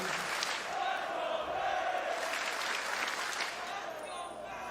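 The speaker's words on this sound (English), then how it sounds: "you hear the FaZe chants starting to get going" Esports arena crowd at a Call of Duty League championship final, cheering and starting chants for Atlanta FaZe, a dense steady roar of many voices filling the whole moment with no clear pauses.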